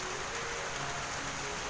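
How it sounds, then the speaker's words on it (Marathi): Steady rain falls in a village during a windy evening shower, a soft continuous hiss without distinct drops and no voices. "पाऊस पडतोय."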